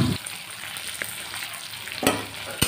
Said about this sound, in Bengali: এটাকে একদম গ্যাসটা লো করে আমি এটাকে ভালোভাবে ভেজে দিচ্ছি